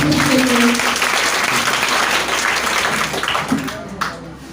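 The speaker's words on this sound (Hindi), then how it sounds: "एक बार जोरदार ताली बजाइए" Loud, dense audience applause fills a hall at a Teachers' Day celebration, sustained clapping from many hands with a voice briefly rising over it before it thins out.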